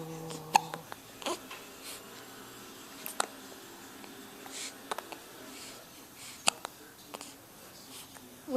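A baby hiccups several times at irregular intervals, each a short sharp click-like catch, fairly faint and close, with soft breathing and small rustles between.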